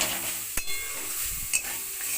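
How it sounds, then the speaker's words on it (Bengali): Grated coconut with sugar stirred in a kadai, a close, steady dry scraping and rustle with faint sizzle and two sharp clinks of the spoon against the pan. "চিনি দিলাম চিনি দিয়ে আমি নারকোলটাকে নাড়ছি"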